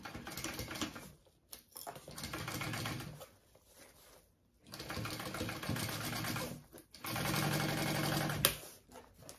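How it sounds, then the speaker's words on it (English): A sewing machine bastes along the edge of an Elora backpack, running in three long bursts of rapid, even stitching separated by short pauses, close and clear. "we're gonna baste this all together along this edge"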